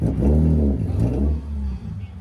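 BMW cars rev their engines at a cars and coffee show, a near, loud rising engine roar that eases off after a second, with a faint voice underneath.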